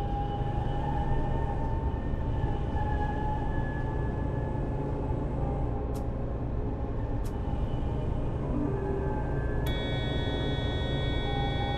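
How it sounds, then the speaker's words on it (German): A tram rolls along in City Transport Simulator: Tram, a steady loud rumble of wheels and motor with faint high whines and occasional brief clicks, no voices. "Die ist jetzt ein bisschen lauter als die andere Straßenbahn"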